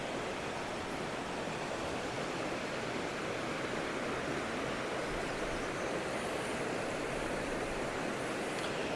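The Tolerme stream, feeding a lake, rushes continuously on a wet woodland hike near Latouille-Lentillac in the Lot, a dense, steady wash of flowing water with no voices.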